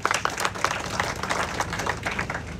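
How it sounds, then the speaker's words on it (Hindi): Audience at a Punjab gathering against drug abuse claps loudly, a dense run of individual handclaps with distinct sharp hits rising out of the steady applause. "जोरदार तालियां बजाइए ये लोगों को।"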